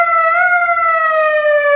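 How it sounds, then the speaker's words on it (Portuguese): Electronic siren fitted to a Shineray 50cc motorcycle, a loud, close wailing tone holding nearly steady with a slight rise and fall, heard alone. "Olha que legal, galera. Tem sirene."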